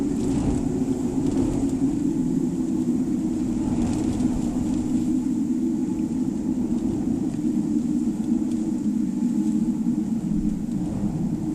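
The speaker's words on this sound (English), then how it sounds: "The wind is just howling." Strong storm wind howls and roars past a parked car with its window open, making a steady, loud low rumble with gusty swells.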